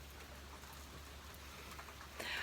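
Light rain falls steadily on a farm on a cold day, a faint soft patter with a low hum underneath and a slightly louder burst right at the end; no voices.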